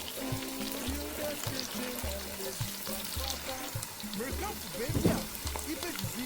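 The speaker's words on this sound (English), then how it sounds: "this is my palm oil and I'm adding in my diced onion" Diced onion frying in palm oil for a Ghanaian okra stew, with a continuous sizzle and occasional stirring or scraping, a light burst near the end, and faint background voice.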